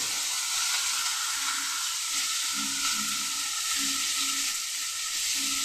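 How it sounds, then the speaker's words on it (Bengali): Potatoes frying in a pan with turmeric and salt, a steady dense sizzle and hiss heard up close, with a few faint low knocks from the pan. "দিয়ে আলুটাকে ভেজে নিচ্ছি"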